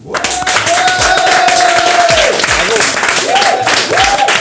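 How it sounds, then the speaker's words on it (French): Loud audience applause and cheering for a team at a live French evening show, continuous clapping with a voice or tones rising over the crowd. "Mais applaudissez s'il vous plaît Simon, PA et Yuna"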